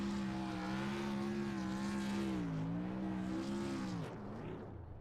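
A race car roars through a victory burnout after a charity race event, its engine a loud, sustained drone with wavering pitch as the revs rise and fall before easing off near the end.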